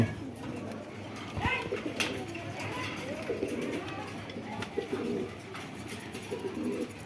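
Pakistani Giribaz pigeons coo repeatedly at a pigeon market, their low rolling calls overlapping at close range against faint background murmur.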